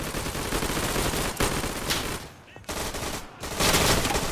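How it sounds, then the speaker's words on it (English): Gunfire from all directions in the World War II shooter Day of Infamy: dense, continuous crackling volleys and rapid bursts, some near and loud, with brief lulls before the shooting swells again. "Getting shot at from all around, but I actually have a feeling that was our guys."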